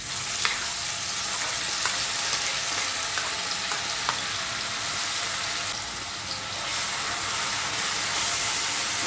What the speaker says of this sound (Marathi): आता हे आपल्याला छान सोनेरी रंग येईपर्यंत चांगलं परतून घ्यायचं आहे